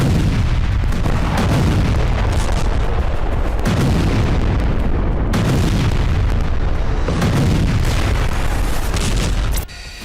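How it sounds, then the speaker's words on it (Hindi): Heavy FAB-3000 bombs strike military and energy sites in Ukraine, a continuous roar of deep blasts and rumbling booms that rise and fall in repeated waves at high level, cutting off sharply at the end. "रूस यूक्रेन के सैन्य और एनर्जी ठिकानों को जलाने के लिए FAB 3000 बमों से हमले कर रहा है"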